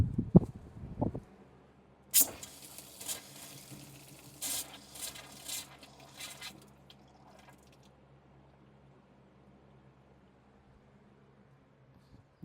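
A kitchen tap on an off-grid property, whose water transfer pump has failed, sputters in several uneven bursts of running and splashing water, then fades to a faint trickle and stops.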